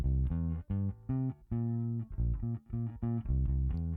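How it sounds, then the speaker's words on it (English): Bass guitar played through a Tech 21 SansAmp DI, a thick, slightly driven tone with a busy riff of short and sustained notes, close and clean with no voices. "the bass and the SansAmp together sound like this."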